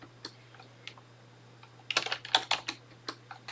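Quiet, close keystrokes typing a Linux terminal command on a computer keyboard, a few scattered taps and then a quick burst of clicks over a low steady hum.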